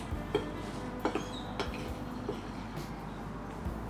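Cocoa powder being mixed into flour in a bowl for an eggless chocolate loaf cake, with several light clinks of a utensil against the bowl over a soft, steady scraping background.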